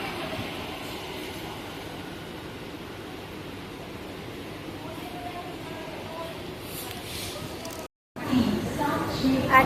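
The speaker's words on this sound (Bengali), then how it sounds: "একদম ঠিকঠাক সময় ছেড়ে দিল নৈহাটি লোকাল ব্যান্ডেল স্টেশন থেকে" A Naihati local train pulls out of Bandel station, a steady rumbling rail noise close by that runs throughout, briefly cut off near the end before returning louder.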